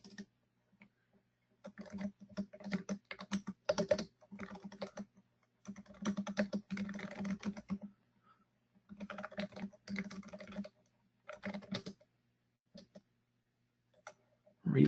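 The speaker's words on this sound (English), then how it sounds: "It would really help if I could type." Bursts of typing on a computer keyboard, quick clattering key clicks in short runs separated by pauses, close and fairly quiet in a still room.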